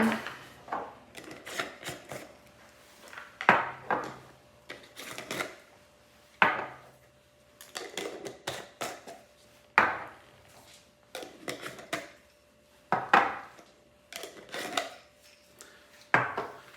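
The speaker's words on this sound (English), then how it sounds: "we're gonna put our lids on here" Metal lids placed onto glass jars of prepared rye berries for mushroom spawn, making a run of close, sharp clinks and taps in irregular bursts with short pauses between.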